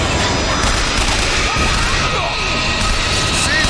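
Loud, dense gunfire and crashing impacts from the video game Bioshock Infinite fill the scene continuously, a near, saturated barrage of shots and booms with no pause.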